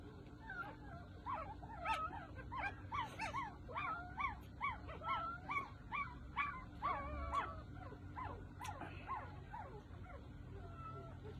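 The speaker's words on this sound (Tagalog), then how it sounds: "May tuta na maingay, mayroong pusa." Puppies whimper and yip in a rapid, repeated series of high-pitched cries, fairly faint, over a low steady background hum.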